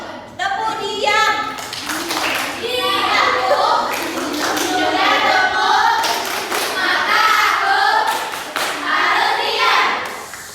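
Schoolchildren in a classroom chant the 'tepuk diam' clapping routine together, bright overlapping young voices over a string of sharp, evenly timed hand claps that carry through the whole passage.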